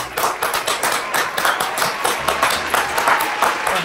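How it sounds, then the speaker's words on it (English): Rhythmic clapping from a group of characters in a video game, brisk and fairly loud with dense overlapping hand claps and a busy background throughout. "guys all gotta clap for me."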